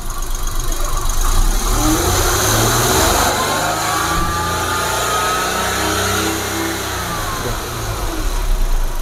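A car engine is revved up to about 5,000 rpm while the battery charges, climbing to a high, sustained roar and then easing back down toward idle, loud and close, with no voices heard.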